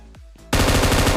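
An M249 machine gun in a shooting video game opens up after two low whooshing thumps, firing a loud, rapid, unbroken burst of shots.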